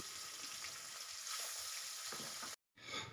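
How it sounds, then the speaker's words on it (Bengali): Pabda fish frying in hot oil, a faint, continuous hiss and sizzle with a brief drop-out near the end. "এই একইভাবে আমি বাকি মাছগুলোকে ভেজে নেব।"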